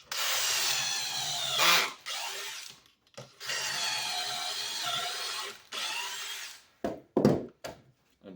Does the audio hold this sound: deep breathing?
no